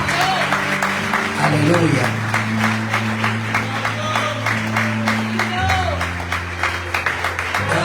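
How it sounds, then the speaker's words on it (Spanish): A church congregation claps for the Lord during a service, steady applause running under a voice and sustained musical tones throughout. "Den un aplauso al Señor"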